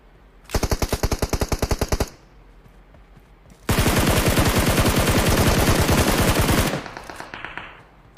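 Automatic gunfire in the battle-royale video game PUBG Mobile, made of two loud rapid bursts of shots. The first lasts about a second and a half and the second about three seconds, with short gaps between them.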